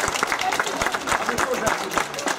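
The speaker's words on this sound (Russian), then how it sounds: "Аплодисменты." An audience applauds, a loud, dense run of clapping with sharp individual claps, heard close and continuous, with faint voices mixed in.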